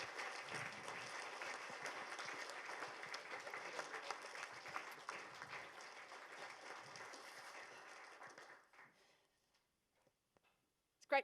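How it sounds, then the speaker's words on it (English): Sustained applause from a standing audience, dense clapping that gradually thins and fades out to near silence, with a brief sharp sound at the very end. "give her a huge round of applause because she is amazing"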